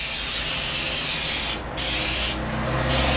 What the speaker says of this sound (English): I just take the old Goof Off and I just spray it on the cracks